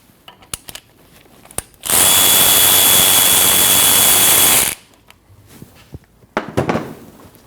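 A power tool whirs loudly for about three seconds while backing out a 12mm brake hose bolt at the caliper on a Nissan NV2500, with a steady high-pitched whine, set between quiet clicks and handling noises.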